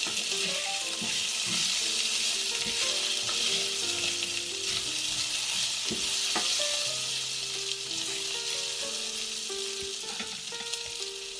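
Tofu and potatoes sizzle steadily in hot oil while being stirred around the pan, with scraping and clacks of a utensil over continuous frying hiss and no voices.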